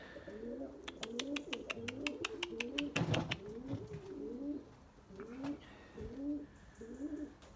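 Erzurum white pigeons coo repeatedly in low, rolling calls, close by, with a rapid series of sharp clicks partway through and softer coos continuing afterward.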